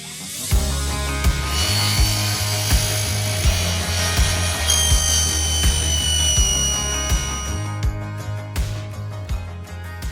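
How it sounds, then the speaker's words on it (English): A cordless grinder cuts through a 20 mm panel of fiberglass and foam, a loud continuous whining grind with rough scraping and repeated sharp clicks and knocks over ten seconds, and no voices. "the cordless grinder. I've got a big 20 mil to cut, so it's fiberglass and then in the foam"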